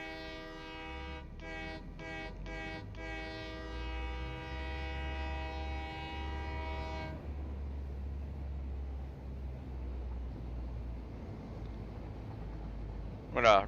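A train in a factory-building video game rolls along with a sustained horn-like tone for about seven seconds, broken by short pulses early on, then steady rumbling movement continues alone to the end.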